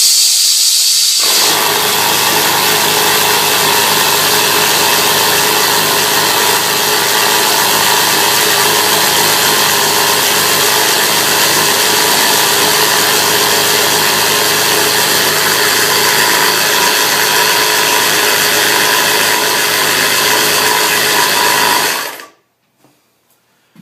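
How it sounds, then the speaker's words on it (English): Loud air pump filling a low pressure tank, running as a steady, harsh mechanical drone with a hissing edge for about twenty seconds before cutting off abruptly, close up and alone. "yes, the pump is loud, but that will likely only come on once every hour or two"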